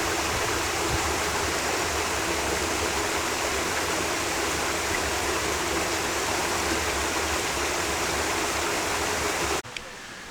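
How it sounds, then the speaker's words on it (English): A small meandering river flows in a garden setting, producing a steady, dense rush of water that stays constant and fairly close before cutting off abruptly at the end. "This is a little meandering river."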